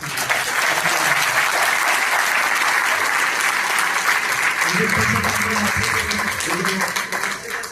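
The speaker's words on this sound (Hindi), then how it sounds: "एक बार आपके लिए तालियां बजाइए" Loud, dense audience applause at a business seminar fills the whole stretch evenly, with a speaker's voice coming through beneath it near the end.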